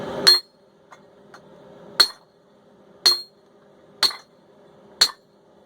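A treadle hammer, converted from a press, strikes metal five times at a steady rhythm about once a second, each blow a bright ringing clang, with faint softer taps between.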